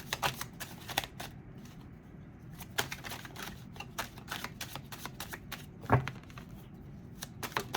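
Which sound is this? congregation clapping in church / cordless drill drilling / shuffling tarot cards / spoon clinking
shuffling tarot cards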